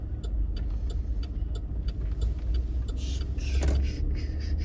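A car follows close behind on a street in Irondale, Alabama, its engine and tire noise a steady, fairly loud rumble that swells slightly toward the end, with no talking.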